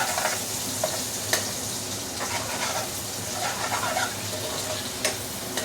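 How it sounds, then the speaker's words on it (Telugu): Goat brain frying in a pan for a head-and-trotters curry, a steady close sizzle with stirring scrapes and a few sharp clicks throughout, no voices. "అప్పటి వరకు బ్రెయిన్ ఫ్రై చేద్దాం"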